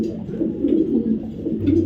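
A pair of Afsan grizzle racing pigeons coo in low, throaty, repeated rolls, close by and steady, with no voices over them.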